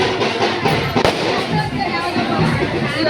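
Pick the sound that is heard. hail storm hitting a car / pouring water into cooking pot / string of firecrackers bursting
string of firecrackers bursting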